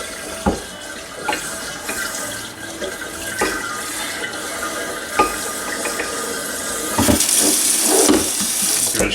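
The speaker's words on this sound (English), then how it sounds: "Put a little more water in to rinse." Water running into a glass carboy for rinsing, a continuous splashing, gurgling stream with intermittent knocks and sloshes, close and fairly loud, with no talking.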